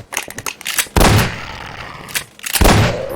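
Gunfire in the Garry's Mod video game: two loud, sharp shots about a second and a half apart, each followed by a short ringing tail, with fainter busy game noise between them.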